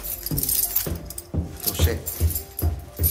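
Keys jangle in a rhythmic run of metallic shakes on a heavy snow day in Saint John, New Brunswick, close and fairly loud, with faint talk in the background.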